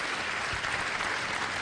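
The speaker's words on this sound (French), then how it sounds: "on peut applaudir déjà" A crowd at the national Talents des Cités ceremony gives a short, loud burst of continuous applause for a 20-year anniversary.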